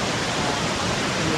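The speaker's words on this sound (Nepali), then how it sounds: "तपाईँलाई यो झरना देखिरहेको छ।" A waterfall at Shaktipur in rural Nepal gives off a steady, close, even roar of falling water, heard alone over a brief moment.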